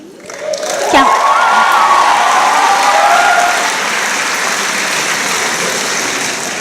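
Audience at a baccalaureate graduation ceremony breaking into loud applause, with a few cheers and whoops rising over the clapping early on before it settles into steady, slightly softer clapping.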